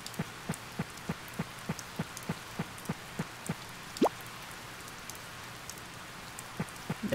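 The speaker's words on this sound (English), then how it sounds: "It's been raining." Rain in the farming video game Harvest Moon: Save the Homeland, a steady soft hiss of falling rain under a regular ticking pattern of light clicks, with no speech.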